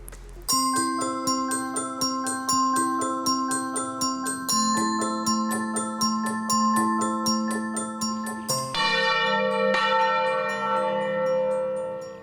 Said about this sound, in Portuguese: cidade onde dizem que os sinos até falam